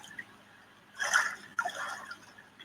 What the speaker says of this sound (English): These are the wonderful sounds of Puget Sound.